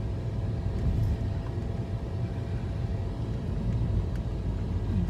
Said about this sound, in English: I was just letting Jayla experience driving